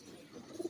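A Ferozpuri pigeon coos softly, three short low throaty notes close together near the end over a quiet background.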